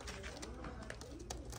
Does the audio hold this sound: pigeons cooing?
yes